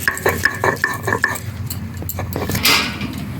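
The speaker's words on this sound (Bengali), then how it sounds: "রসুনগুলো এবার বেটে নেব" Garlic cloves are crushed into paste by hand for a fish dish, with a run of quick, regular scraping knocks up close that then turns into looser rubbing and clatter.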